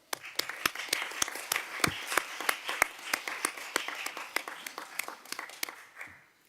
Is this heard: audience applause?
yes